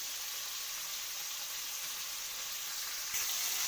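Food frying in hot oil in a pan for a Bengali fish curry with ridge gourd, a steady dense sizzle that stays loud and even throughout, with a slight surge near the end.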